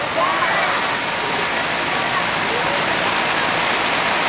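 Heavy rain during a live outdoor music performance in Pamarican, Ciamis, a dense, constant roaring wash of downpour filling the whole stretch at a loud, even level, with faint voices beneath.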